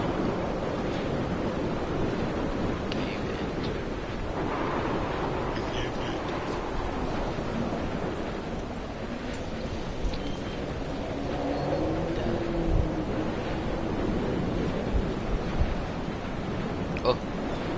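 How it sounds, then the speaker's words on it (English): Wind gusting and surf washing steadily across a remote island in Dear Esther, a continuous broadband roar that rises and falls, with faint voices at times beneath it. "My God, it's getting a little windy up here."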